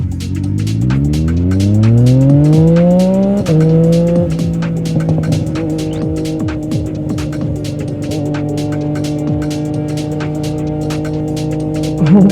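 A motorcycle engine revs loud and close, its pitch climbing for about three seconds and then holding at a high, steady drone, with fast ticking running throughout.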